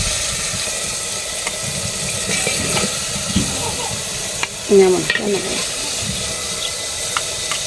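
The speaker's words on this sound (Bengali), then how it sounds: "মাছগুলো মশলার মধ্যে দেওয়া হচ্ছে" Fish pieces fry and get stirred into a spice masala. A close, constant sizzle and hiss runs throughout, and a few scraping stirs and clatters stand out near the middle.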